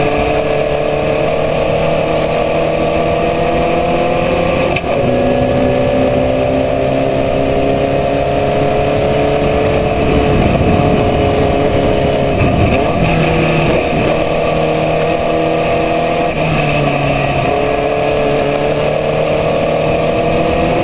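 Formula Vee race car at full speed on a fast race lap, its engine droning loud and steady throughout with shifting pitch as it brakes and accelerates through corners, heard close from onboard.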